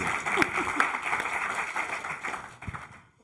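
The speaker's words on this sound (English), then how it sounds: "applause." Audience applause at a festival jury talk, moderate clapping with some voices over it, tapering off to quiet at the end.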